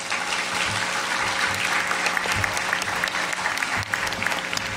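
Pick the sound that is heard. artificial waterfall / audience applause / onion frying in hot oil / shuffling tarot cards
audience applause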